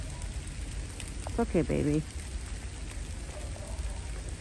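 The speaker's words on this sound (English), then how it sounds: "it's not raining hard, it's like a little bit more than a drizzle" Light rain a little heavier than drizzle on a cold evening outdoors, a soft steady hiss heard faintly throughout, with a person briefly speaking softly over it.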